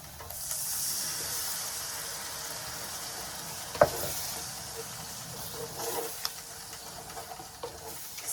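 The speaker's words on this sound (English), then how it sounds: "In goes a can of tomato, Italian brand." Canned Italian tomatoes hit a hot pot and sizzle with a broad steady hiss, close and moderately loud, with a sharp clank near the middle and a few knocks later.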